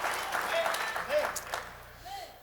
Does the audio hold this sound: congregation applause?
yes